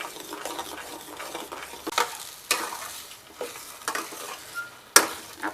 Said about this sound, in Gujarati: આ રીતના વાસણથી છૂટો પડી જાય ને એટલે ત્યાં સુધી આપણે ચલાયા કરવાનું